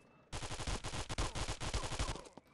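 Pistol gunfire in a mobile shooter game, a fast, steady string of about twenty loud close shots, each one cracking sharply, then a brief pause and a final click.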